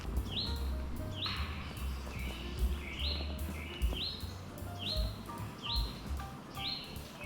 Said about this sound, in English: it's a woodpecker